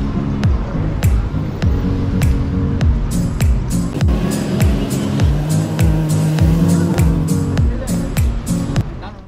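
Car on a road in Palm Jumeirah, Dubai, slowing to a stop with a brief tire squeal amid steady engine and traffic noise, loud and close, with someone talking over it.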